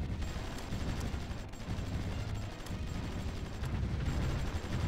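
Artillery barrage in the strategy game Supreme Ruler Ultimate, a dense, continuous rumble of distant booms and crackling fire rolling on without pause at low volume, no voices over it.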